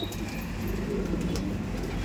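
Pigeons of Punjabi and other high-flyer breeds coo softly in a loft, a low steady murmur of overlapping calls under faint background noise.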